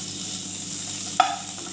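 Butter melting in a hot kadai for paneer masala, giving a low steady sizzle with one sharp click of a utensil partway through.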